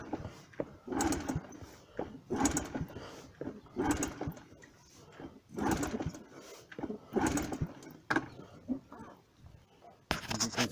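A Honda CT110 motorcycle engine kicked over with the throttle held open for a compression test, giving repeated rhythmic chuffing cranking bursts, close and fairly loud, with short gaps between strokes.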